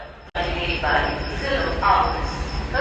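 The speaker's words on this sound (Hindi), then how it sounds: "ये आ गई गाइस अपनी ट्रेन।" A train pulls in beside a railway station platform on a journey toward Jodhpur, Rajasthan, its steady loud rumble and rolling wheel noise filling the scene while people talk nearby.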